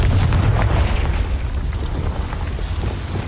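A Confringo fire spell explodes in the Hogwarts Legacy video game, a loud, sustained, rumbling blast that holds its heavy low roar for the whole moment with no voices.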